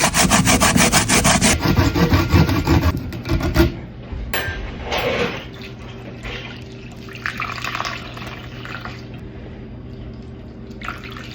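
Fresh coconut is grated by hand for Jamaican toto, with rapid, rhythmic rasping strokes for the first few seconds, then quieter scattered scraping and rubbing against a faint background hum.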